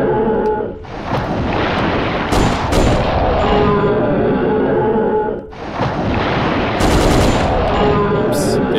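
A heavy machine gun fires in the video game Dino Crisis 2, a loud, dense rapid-fire rattle in two long sustained bursts with a short pause between, over a roaring background.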